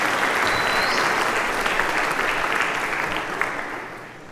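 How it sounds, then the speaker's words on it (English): A church audience gives a warm round of applause, steady dense clapping close and full, tapering off gradually toward the end with no voices. "Now, give her a round of applause."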